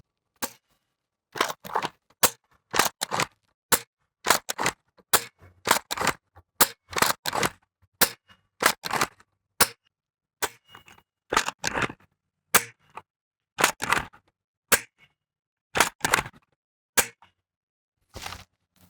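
Adventure Force Nexus Pro dart blaster firing at a tree outdoors, a long run of sharp snapping shots, loud and close, in irregular quick bursts with short pauses, some shots clustered and others spaced out, no voices.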